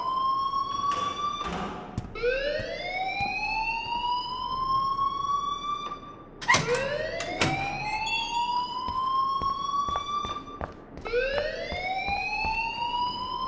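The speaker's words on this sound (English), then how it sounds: "please turn off that alarm since that's your job" A fire alarm blares inside the school of the video game Life is Strange, its rising electronic wail repeating three times in steady sweeps with sharp clicks between, loud and with no voices over it.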